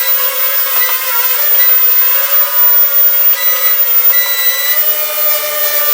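A JJRC H21 toy hexacopter drone hovers close by with a loud, steady high-pitched whine of small motors and slight wavering pitch, nothing else heard.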